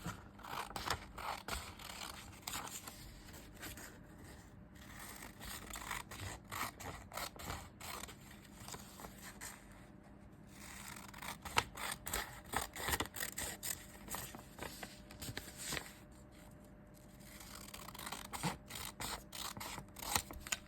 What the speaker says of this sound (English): just need to grab some scissors and cut it out